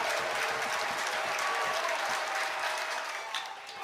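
Stadium crowd at an NCAA baseball championship game between Duke and Murray State, bases loaded with two outs, rising in a sustained roar of cheering and applause that stays loud and dense throughout, easing slightly near the end.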